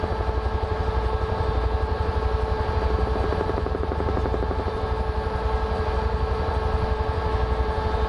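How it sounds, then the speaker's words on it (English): A Huey helicopter in Microsoft Flight Simulator drones steadily with a rhythmic rotor chop and engine hum, loud and continuous throughout, with no voices. "What's that funny yellow helicopter"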